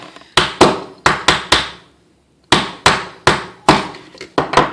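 A small hammer taps pins into a Ruger LCP .380 pistol frame, about a dozen sharp close knocks in quick pairs and triplets, with one short pause midway and no talking.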